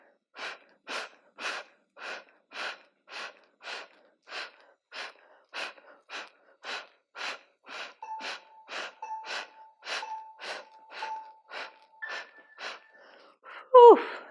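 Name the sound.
forceful yoga breathing, exhaling through the mouth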